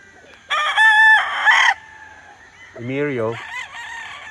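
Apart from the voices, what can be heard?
rooster crowing on a farm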